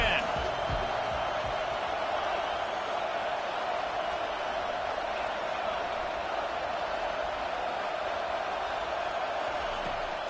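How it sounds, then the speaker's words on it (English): Steady crowd roar fills a college football video game stadium during a third-down defensive stand, a dense continuous wash of noise with no breaks, while a commentator's voice carries over it. "The roar of the crowd trying to fuel this defense to keep them pinned in their own end."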